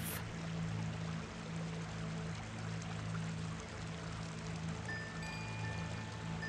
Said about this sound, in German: Der Flick hört das Plätschern vom Quellwasser